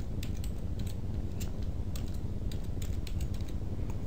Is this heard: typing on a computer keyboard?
yes